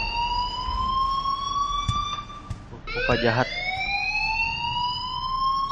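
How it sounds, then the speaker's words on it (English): An alarm in the video game Life Is Strange sounds as a continuous rising electronic wail that repeats, with a brief voice and a clatter cutting in partway through. "please turn off that alarm since that's your job."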